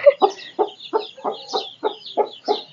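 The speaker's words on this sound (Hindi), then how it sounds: "ये हमारी मुर्गी, देखो कितने प्यारे बच्चे हैं, इसने बच्चे निकाले हुए हैं। देखो अपने बच्चों को ढूंढ रही है।" A mother hen in a Pakistani village clucks close by while searching for her chicks, giving a steady series of about eight short, regular clucks.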